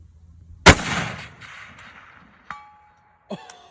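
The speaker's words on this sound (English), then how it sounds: "hitting that with iron sights on this old M1 Garand" An old M1 Garand rifle fired with iron sights from a kneeling position: one sharp, loud shot, followed after a couple of seconds by two faint metallic rings as the bullet strikes a steel target far off.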